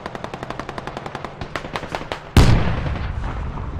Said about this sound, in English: Tank is now engaging